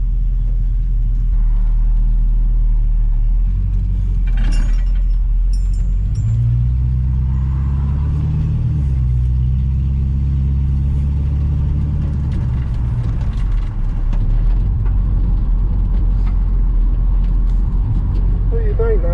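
A Chevrolet C10 truck's engine rumbles loudly and steadily from inside the cab as it pulls away and drives off, with a shift in engine pitch partway through and a voice talking over it.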